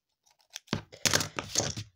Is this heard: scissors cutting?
yes